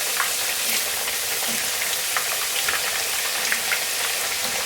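Slices of food for a noodle-free lasagne frying in a hot pan, a steady dense sizzle with fine crackling pops throughout, close and even with no voices.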